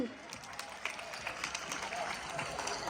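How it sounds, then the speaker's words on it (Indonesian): Students at SMA Negeri 2 Surabaya, a high school, clap in a moderate, uneven patter that sounds a little distant, with some murmuring and voices from the crowd mixed in. "Tepuk tangan"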